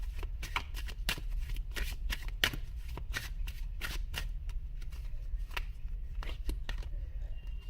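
Close, steady rapid shuffling of a tarot deck, crisp card-edge riffles and slides repeating in a continuous rhythm for the whole stretch, with no voices.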